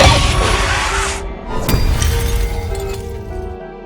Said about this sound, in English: the car lost control and crashed into